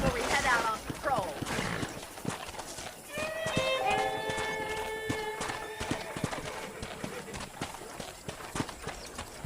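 A horse's hooves clip-clop steadily in the video game Red Dead Redemption, with a whinny near the start and someone talking over the hoofbeats, while a tonal musical or whistle-like phrase rises in the middle.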